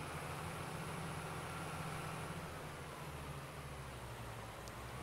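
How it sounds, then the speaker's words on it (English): Tractor engine in Farming Simulator 22 running steadily while spraying a field: a continuous low droning hum with broadband noise, the pitch dipping slightly midway, no talking. "Come on, tractor, keep driving."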